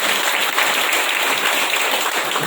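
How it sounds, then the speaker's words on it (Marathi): Applause for a VIP guest at a business meeting in Boisar: dense, steady clapping from a crowd fills the short stretch at an even loudness, with no voices standing out. "आजचे VIP guest mister Nilesh Patil सरांसाठी जोरदार टाळ्या आहेत"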